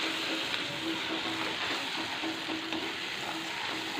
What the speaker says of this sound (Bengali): যে 1 চামচ লঙ্কা গুঁড়ো দিলাম, দিয়ে মশলাটা ভালো করে কষে নিতে হবে।